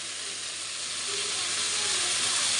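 Paneer with onion and half-cooked potatoes frying in a pan makes a continuous, close, bright hiss of sizzling oil that swells slightly louder toward the end, with no talking.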